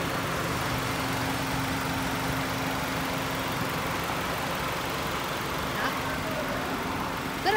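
A 2010 Ford Escape's 2.3-litre petrol engine idling, a smooth, even hum that stays steady and moderately close the whole time, with faint outdoor ambience and no talking.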